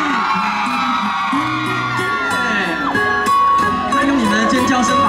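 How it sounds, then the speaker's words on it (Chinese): An outdoor concert crowd at a 2023 carnival in Taipei's Liugong Park screams, whoops and cheers loudly and continuously, with a voice also heard. "全场的尖叫声在哪里？"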